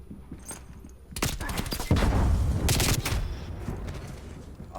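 Video game gunfire from Call of Duty Cold War crackles in rapid bursts, sharp automatic shots layered with heavier booming thuds that swell in the middle and then ease off.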